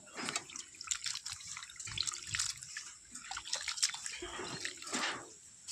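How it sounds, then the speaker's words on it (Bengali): Raw prawns being washed by hand in a bowl of water, with continuous close splashing, swishing and dripping that rises and falls in uneven bursts, no voices. "চিংড়িগুলো জলে দিয়ে ভালো করে আমি ধুয়ে নেব।"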